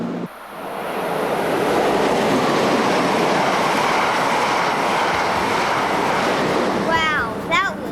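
An Amtrak passenger train rushes past close by, a loud sustained roar of wheels and cars that swells in and holds for several seconds, with a brief whistle-like squeal near the end.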